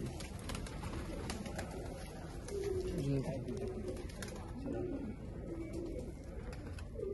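Diamond pigeons coo softly in a series of low, rolling calls that sound fairly close, with people talking nearby.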